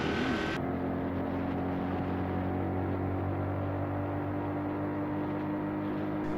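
Honda Trail 125 mini motorcycle without a clutch pulling away from a stop on a road, its small engine droning steadily under constant wind rush, heard from the rider's position with no speech.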